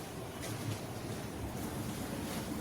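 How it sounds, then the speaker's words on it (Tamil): A cool wind blows steadily through neem and mango trees under a cloudy sky, a continuous rushing and rustling with low buffeting gusts on the microphone, with no voices. "காற்று நல்லா குளிர்ந்த காற்று சூப்பராக அடிக்குது"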